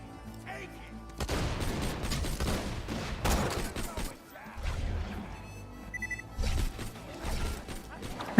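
Bursts of gunfire in Borderlands 2, scattered shots and short volleys of moderate loudness, with a player talking in between.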